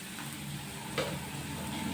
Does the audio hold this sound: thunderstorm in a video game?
no